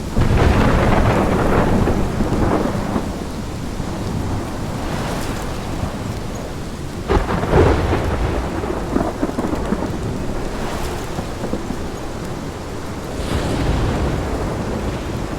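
Heavy rain pours steadily in the video game Life Is Strange while deep rolls of thunder rumble and swell several times, a loud, dense storm with no voices.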